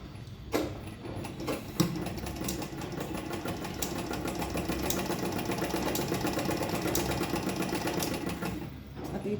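A sewing machine stitches fabric, running in a fast steady rattle for several seconds with a couple of brief clicks at the start, fairly quiet and close.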